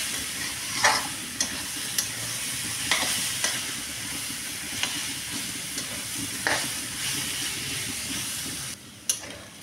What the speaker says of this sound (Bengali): দেখো কি সুন্দর বাঁধাকপি আলু ভাজা হয়ে গেছে